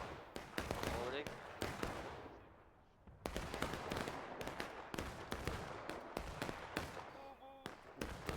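Rapid, overlapping booms of double-cannon fire in a video game crack and echo in quick bursts, with a brief lull midway, and voices murmur beneath the barrage.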